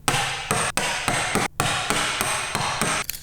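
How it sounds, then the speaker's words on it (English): Hand chisel or mallet blows knocking waste wood out of a dovetail halving joint held in a vise, a series of about eight sharp, loud whacks in an irregular rhythm, close by with no talking. "just whack it out and get rid of most of it."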